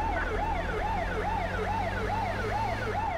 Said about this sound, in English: You'll only hear these sirens on unmarked vehicles now.